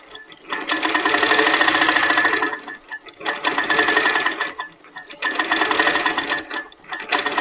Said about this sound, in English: So yeah, so this is the pro stitcher. It's just completing this corner.